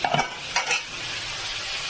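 Eggplant frying in a home kitchen makes a steady hissing sizzle, with a couple of brief utensil clinks near the start and no voices.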